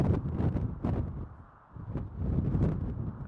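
Strong gusting wind at the Christie Mountain wildfire buffets the microphone in heavy low rumbling surges, dipping briefly before roaring back, with no voices.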